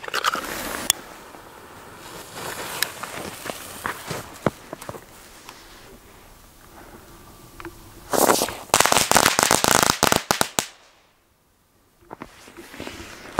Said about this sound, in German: Jetzt gibt es hier Cracking Balls von Pure Factory.